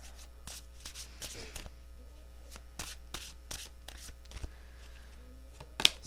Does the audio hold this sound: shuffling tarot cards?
yes